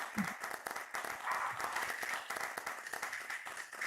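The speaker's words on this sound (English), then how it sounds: "Let's give it a round of applause." Audience applause at a talk on virtual fashion and textiles, with dense steady clapping and a few cheers running throughout at moderate level, no speech over it.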